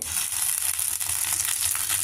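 Curry leaves drop into hot oil already frying chana dal, urad dal, cumin and mustard seeds for a tempering. A dense, bright sizzle crackles steadily and close for two seconds, with no talking.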